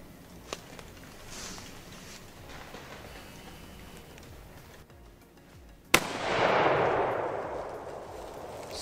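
A rifle fires a single sharp, loud shot at a wild boar outdoors, breaking a quiet stretch of faint rustling, followed by a wash of wind and movement noise.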